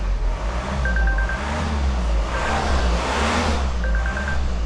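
A Volvo XC90 engine, just refitted with a new EGR pipe, running steadily close by with a dense low rumble and broad mechanical roar; faint chime tones sound briefly over it.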